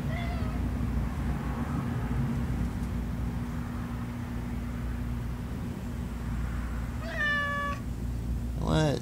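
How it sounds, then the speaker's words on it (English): A cat gives two clear meows late in the passage, the second longer and rising, heard close over a steady low background hum with faint voices earlier. "Yeah, there's a kitty."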